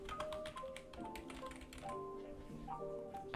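Scattered clicks from typing on a computer keyboard while entering a name in a Kali Linux terminal, sounding as light irregular taps under steady background music, with no talking.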